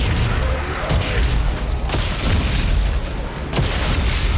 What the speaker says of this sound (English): the ricocheting explosion is where it's at.